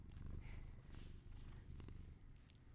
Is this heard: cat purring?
yes